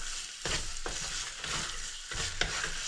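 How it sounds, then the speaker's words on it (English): Fresh peas are stirred into sizzling chicken keema in a pan, giving a steady frying hiss broken by a few sharp scraping stirs. "Now at this stage, I'm adding a half cup of fresh"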